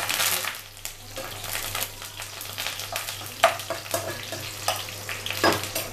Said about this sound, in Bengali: কারি পাতাটা একটু ফোড়ন হয়ে আসলে